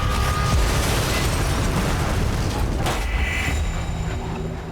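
Loud, dense burst from a propane gas explosion test staged to mimic restaurant gas, with a broad roar at the start, a sharp crack near three seconds, then a rumbling, crackling tail that fades slowly.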